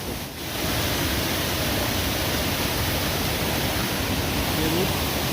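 Neer Waterfall near Rishikesh roars as a dense, steady rush of falling water, loud and close, filling the whole stretch without a break.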